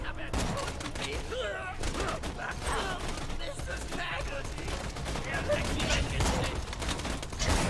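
Dense gunfire from the video game Borderlands 2 in co-op play, rapid bursts and continuous shots layered over other game effects and voices throughout.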